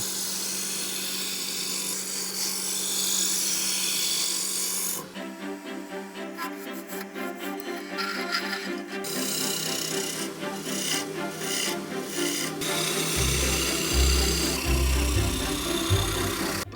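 Wooden wand being hand-carved, the blade scraping and rasping as shavings peel away in close, steady strokes, with no voices.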